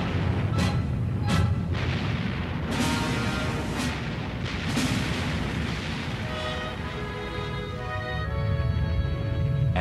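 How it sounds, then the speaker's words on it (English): USS Missouri battleship guns firing in shore bombardment, heavy booming blasts over a dense rumbling roar, several sharp reports early on followed by a sustained low thunder and droning tones. "she serves with distinction in shore bombardment missions"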